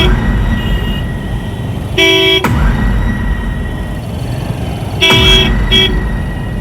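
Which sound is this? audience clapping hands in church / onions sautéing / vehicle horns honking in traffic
vehicle horns honking in traffic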